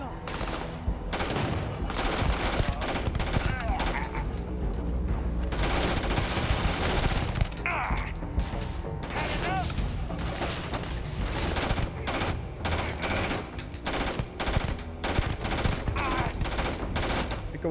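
Rapid gunfire from weapons in the video game Starfield, loud dense bursts of shots and impacts repeating throughout with game effects layered in, and a voice briefly heard under the action.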